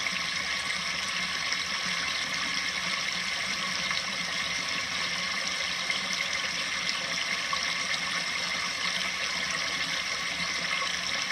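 Water flows steadily, raising the level as it runs in, making a continuous, even hiss and rush with no pauses or talk.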